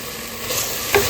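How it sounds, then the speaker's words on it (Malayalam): Coriander and mint leaves being stirred into a pressure cooker for chicken biryani, a short steady scraping sizzle with a brief louder clack near the end, alone and close. "നമുക്കൊന്ന് ഇളക്കി കൊടുക്കാം"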